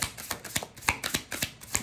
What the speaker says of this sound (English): So I'm going to keep shuffling all in everybody's ear.